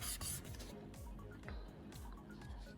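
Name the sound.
lightly sanding a resin die by hand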